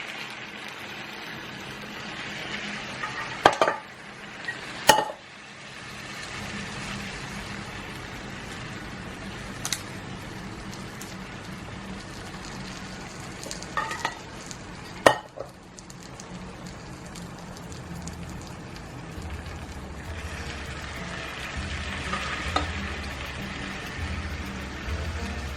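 Cooled syrup poured over a hot phyllo-wrapped Greek custard pie (galaktoboureko), giving a steady soft sizzle and patter throughout, with a few sharper clinks and taps along the way.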